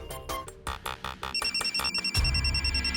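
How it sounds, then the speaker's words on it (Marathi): A mobile phone ringtone plays a repeating electronic melody indoors in a home, moderately loud, with rhythmic pulsing notes and no speech over it. "आई तुमचा फोन वाजतोय"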